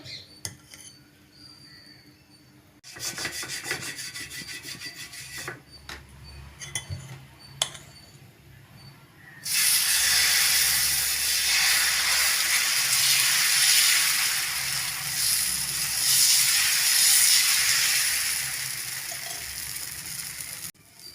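Vallarai keerai dosa batter meets a hot pan, starting with clinks and scrapes of utensils and then breaking into a loud, steady sizzle that fills the last half, close and without speech.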